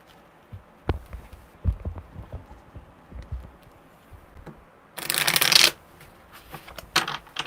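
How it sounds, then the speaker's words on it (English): Tarot cards riffle-shuffled by hand in a single loud, dense burst of flapping paper, preceded and followed by softer handling taps and card clicks. "Okay, one more good shuffle."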